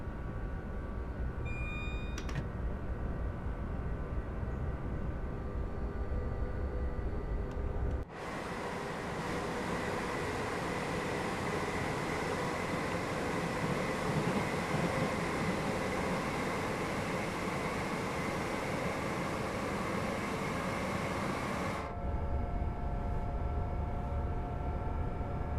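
A passenger train runs in Train Sim World 5, a steady loud rumble of motor and wheels on rail lasting the whole stretch, shifting to a fuller roar in the middle section and back to a quieter cab hum.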